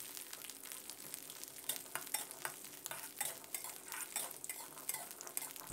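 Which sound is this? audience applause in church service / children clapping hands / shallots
shallots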